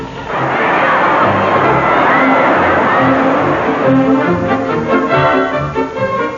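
A football crowd roars and cheers at the Melbourne Cricket Ground after a Geelong win, heard as a loud, dense, continuous swell of massed voices on an old newsreel-style recording.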